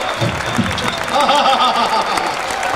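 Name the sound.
audience clapping at a poetry recital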